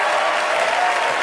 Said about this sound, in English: let's look around and give them a round of applause